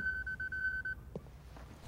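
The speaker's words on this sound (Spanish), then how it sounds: "Alarma, hora de irnos." An alarm gives a steady, high electronic tone for about a second, then cuts off, leaving quiet room noise with a faint click.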